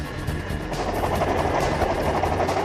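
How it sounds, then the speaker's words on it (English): A helicopter flies near a rocky mountaintop archaeological site, giving a steady, dense rotor and engine roar that holds at an even loudness throughout. "Our helicopter can't set down on top of the mountain, so we land at its base"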